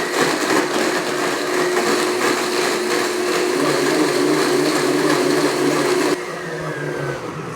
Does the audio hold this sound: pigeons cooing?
no